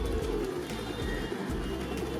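Pigeons coo softly in low, throaty murmurs at Dadar Kabutar Khana pigeon feeding site in Mumbai, over a busy outdoor background hum.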